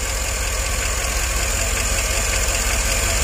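A Chevrolet Tahoe engine idles steadily after a misfire repair, a continuous low rumble with a faint ticking from the valve lifters, close and even throughout.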